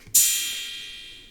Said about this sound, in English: I want to add an open hat as well.